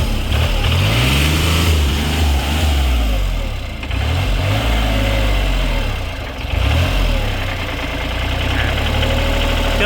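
A second-hand 34 horsepower farm tractor engine runs steadily at close range, a loud continuous low diesel rumble with slight rises and dips in revs throughout.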